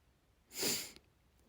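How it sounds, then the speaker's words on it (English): A single short, breathy sniff close to the mic, rising and fading within half a second against quiet background hiss. "I just have the sniffles"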